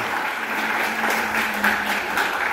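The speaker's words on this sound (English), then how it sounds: "Round of applause." An audience at a literary award ceremony applauds in Borduria, giving steady, dense clapping that fills the hall at moderate volume, with a faint electrical hum beneath it and no voices.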